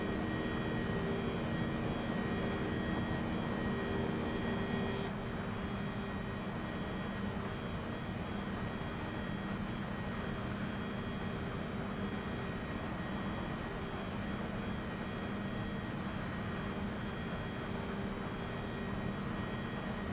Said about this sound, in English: Oof, you can hear that engine working.